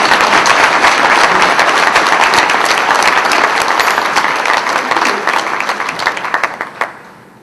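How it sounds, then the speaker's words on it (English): An audience at a civic luncheon applauds, a dense, steady wash of many hands clapping close by that thins out and fades toward the end. "Let's give these folks some round of applause."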